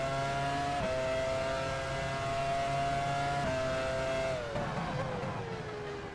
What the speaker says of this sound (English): The engine does sound very nice.